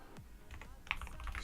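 Typing on a computer keyboard: a quiet run of separate key clicks and taps in an irregular rhythm, close by, with no voices.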